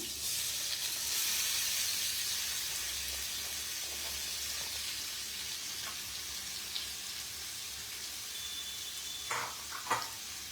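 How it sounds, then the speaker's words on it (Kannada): Finely chopped onions fry over a low flame in a pan, giving a steady soft hiss and sizzle. A few utensil clinks and scrapes come near the end, with no speech. "ಈಗ ನಾನು ಸೇರಿಸ್ಕೋತಾ ಇರೋದು ಇದರಲ್ಲಿ ಸಣ್ಣದಾಗಿ ಹೆಚ್ಚಿರೋದು ಈರುಳ್ಳಿನ ಸೇರಿಸ್ಕೋತಾ ಇದ್ದೀನಿ"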